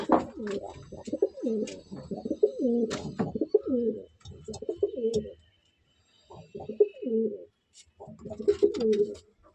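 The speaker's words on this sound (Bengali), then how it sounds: "দেখুন আমার জোড়া বাসানো রয়েছে পায়রার" Pigeons in a home loft of paired birds cooing close by, repeated low throaty rolling coos in bursts with short silent gaps, loud and clear.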